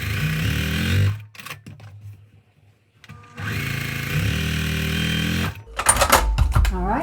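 A sewing machine stitches quilt block seams in two bursts, a steady whirring hum for about a second, then a pause, then a longer run of several seconds, followed by some handling clatter.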